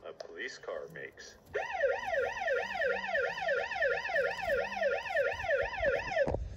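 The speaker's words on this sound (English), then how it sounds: "This is the sound a police car makes." A police siren wails in a fast, steady up-and-down rhythm, loud and close, sounding alone after a brief rustle.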